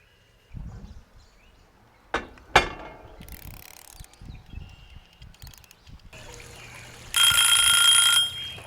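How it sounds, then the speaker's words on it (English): A kitchen timer set while beef stew cooks in an oven beeps as a steady, loud electronic ring near the end, after scattered clicks, knocks and handling sounds. "we're going to set our timer for 50 minutes"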